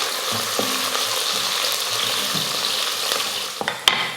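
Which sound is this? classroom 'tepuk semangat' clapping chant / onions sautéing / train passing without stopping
onions sautéing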